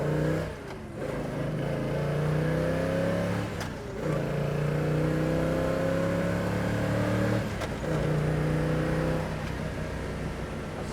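A 1968 Chevrolet Chevelle accelerates through the gears from inside the car, its engine note rising steadily in pitch, then dropping sharply at each of several gear changes before climbing again.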